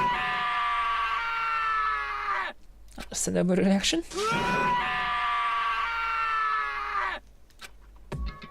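A character in the Danganronpa video game lets out long, loud, sustained screams, two drawn-out wails separated by a short spoken line, ending with a brief voice.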